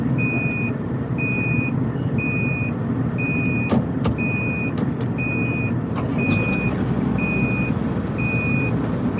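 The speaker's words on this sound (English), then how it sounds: "We got the injector code. That's what's beeping, guys." A truck's warning beeper, triggered by an injector fault code while plowing snow, repeats a steady two-tone beep at regular intervals over a constant engine drone, with a few sharp clicks midway.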